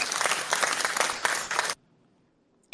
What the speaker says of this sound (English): and some applause.